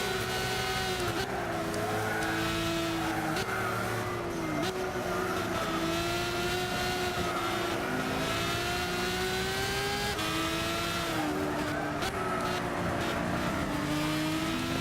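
Race car engines roar continuously in Gran Turismo 6, loud sustained revving with pitch rising and dropping through gear shifts, a few brief dips as the car brakes and accelerates again, with no talking.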